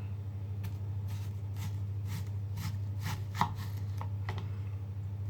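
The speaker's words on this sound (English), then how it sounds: "Now you want onion rings for this dish here. I'm going to cut maybe a couple more here." A knife chopping through onion rings on a board, a series of irregular crisp cuts over a steady low hum, fairly faint and with no talking.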